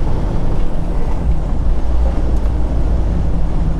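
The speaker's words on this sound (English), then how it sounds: "Very breezy." Steady, heavy wind buffeting the microphone with a deep low rumble and roar throughout, loud and continuous with no voices.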